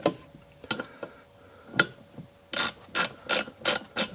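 A handheld ratchet driver with a 90-degree gearbox clicks nearby: a few scattered ticks come first, then a quicker run of loud ratcheting bursts.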